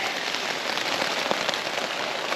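Steady rain patters on a camp at night, a dense hiss of close drops with scattered louder taps and no voices.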